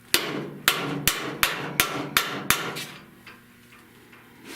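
Seven sharp, evenly spaced hammer blows ring out on the steel fender of a 1970 Buick Wildcat during auto restoration. The strikes are loud and close, then the sound fades to quiet shop hum.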